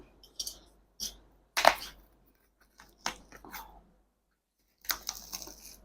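Someone struggles to open a tightly packed, stapled parcel: close, crisp snips and crinkly rustles come in short separate bursts with quiet pauses between them.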